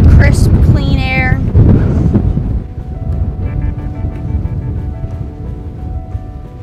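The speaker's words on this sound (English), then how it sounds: "If you were here, you could feel all this wind" Wind at an Outer Banks beach, a steady broadband roar buffeting the microphone throughout, with a person talking over it at the start.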